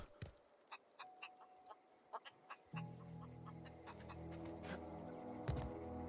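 Chicken clucking in the video game The Outer Worlds, a series of short clucks over quiet ambience that give way to a busier game soundscape with a steady hum and scattered sharp hits.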